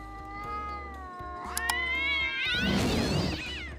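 Cats meowing and yowling in drawn-out, wavering cries, one after another, rising into a louder caterwaul near the end, close and clear.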